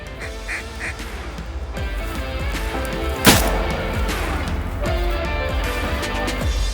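Ducks quack repeatedly and loudly close by during a cold, clear duck hunt, a busy chorus of calls with a single sharp gunshot cracking through midway.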